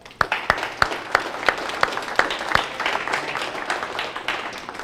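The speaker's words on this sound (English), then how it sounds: "Please give them a round of applause." At a security meeting, the audience applauds. A few sharp, distinct claps open it, and more join in until scattered clapping builds into a fuller round of applause from a modest crowd.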